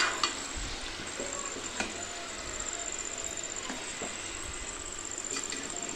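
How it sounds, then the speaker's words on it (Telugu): Marinated chicken, already mixed with onion and masala for a biryani, goes into hot oil and fries with a steady, close sizzle, a few faint clinks of a pan, no talking. "ఓన్లీ మనం కలుపుకున్న చికెన్ ఈ ఆయిల్లో వేసేయాలండి."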